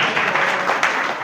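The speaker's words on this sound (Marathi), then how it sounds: "त्याच्यासाठी एक टाळ्या." A short burst of applause for a classmate at a reunion of the 1980-81 SSC batch of Silver Jubilee High School. Many hands clap together briefly, filling the room.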